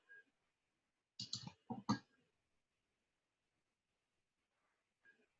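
Mouse clicks in a quiet room, a few brief sharp clicks clustered together with a faint one afterward, nothing else audible.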